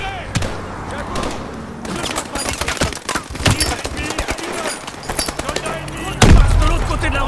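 Rapid bursts of automatic gunfire and heavy thuds fill a street firefight in the video game Call of Duty: Advanced Warfare, loud and continuous, with shouted voices mixed into the action and a deep boom near the end.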